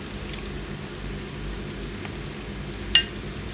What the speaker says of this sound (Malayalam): നമ്മൾ മീനൊക്കെ സാധാരണ ഫ്രൈ ചെയ്യുന്ന പോലെ തന്നെ എണ്ണയ്ക്കകത്തിട്ട് നന്നായിട്ട് ഫ്രൈ ചെയ്തെടുക്കുക